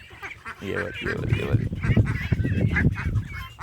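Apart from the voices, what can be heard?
ducklings and a big duck quacking on a farm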